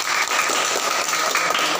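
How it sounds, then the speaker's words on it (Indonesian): A classroom claps for fellow students, a brief, fairly loud patter of applause lasting under two seconds. "tepuk tangan untuk mereka"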